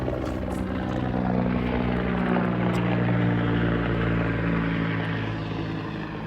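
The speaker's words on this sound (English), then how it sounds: "Hang on, I got a helicopter coming in" A helicopter passes overhead near a house roof with clay tiles, making a steady, loud rotor and engine drone that holds evenly throughout with no voices.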